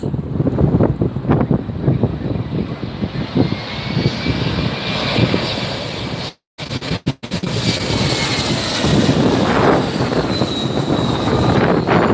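An American Airlines Embraer E-jet arriving from Tulsa on flight 6336 lands at LAX, its engines roaring loud and close with heavy wind buffeting, broken by a brief dropout midway.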